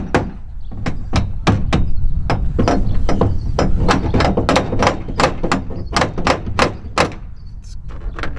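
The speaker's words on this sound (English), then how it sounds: "I'm gonna get my small hammer, tap upward and in" Sharp metallic hammer taps from a small hammer striking part of a truck bed kayak rack, about twenty quick, fairly regular knocks close by with no speech.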